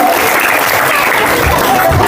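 Dense, steady applause from a crowd at a school Independence Day celebration, loud and continuous throughout, with no speech over it.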